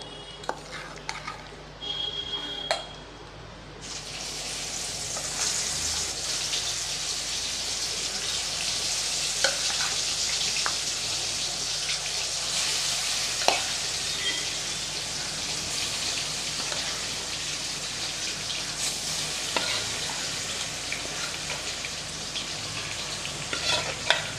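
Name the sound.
marinated chicken sautéing in oil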